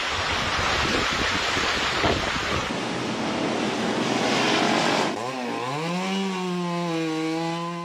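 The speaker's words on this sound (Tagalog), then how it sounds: "sumisipol na ang hangin at bumuhos na ang malakas na ulan" Strong wind roars during super typhoon Uwan, a broad continuous rush through the first five seconds with rain-like noise, followed by a rising and falling whistling tone over the storm. No speech is heard.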